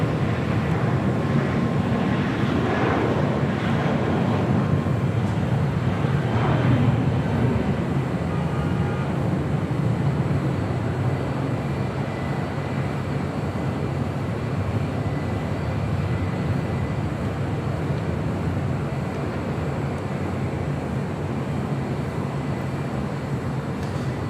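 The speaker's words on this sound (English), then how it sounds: "That was Spirit Airlines Flight 816 heading to Kansas City in that A320" A Spirit Airlines Airbus A320 jet airliner departs LAX for Kansas City as a broad, steady jet roar that swells early and then holds as a sustained rumble, distant and continuous, with no talk.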